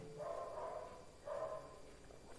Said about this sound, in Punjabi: ਕੁੱਤਾ ਵੀ ਭੌਂਕਣ ਲੱਗ ਗਿਆ